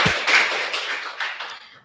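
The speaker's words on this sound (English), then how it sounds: "Please give him a big applause for his." A lecture audience gives a short burst of applause, brief close clapping that fades out within two seconds.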